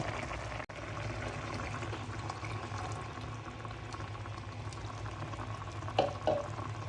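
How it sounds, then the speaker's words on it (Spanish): Red wine poured into a pan of simmering sauce for pork tenderloin, a steady bubbling and liquid hiss running throughout, with a couple of brief louder splashes near the end. "lo que vamos a incorporar va a ser 150 mililitros de vino tinto"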